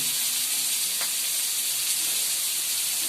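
Fish fry in a pan in a home kitchen, giving a steady, loud, broadband sizzle that holds evenly throughout with no voices.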